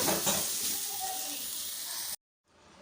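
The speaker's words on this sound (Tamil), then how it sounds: "இந்த வெங்காயம் தக்காளி வந்து நல்லா வதங்கி ரெடி ஆகட்டும்" Small onions and tomatoes sauté in a pan over a medium flame, a close continuous sizzle with light stirring that cuts off abruptly, then faint room noise returns.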